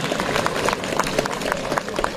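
Steady applause from a crowd at a horse fair in Plaintel, Brittany, greeting a band of veteran Breton pipers; dense clapping throughout with no pauses, fairly loud and close.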